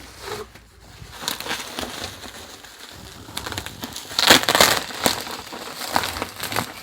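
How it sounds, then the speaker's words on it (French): Bubble wrap is pulled off and crushed while packaged parts are unboxed, giving crinkly rustling with scattered sharp pops that grow denser near the end, up close and without talk. "Il y a du papier bulle."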